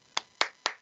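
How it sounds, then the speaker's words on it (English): Three distinct hand claps from one person, evenly spaced and close, fairly quiet, with no talking over them. "Round of applause for Mitchell Robinson."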